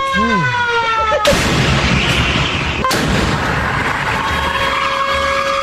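A warbling siren-like tone gives way to two loud booming blasts, each followed by a rumbling tail and a lingering high tone.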